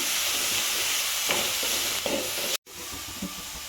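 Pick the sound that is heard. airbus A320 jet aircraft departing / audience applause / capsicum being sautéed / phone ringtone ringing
capsicum being sautéed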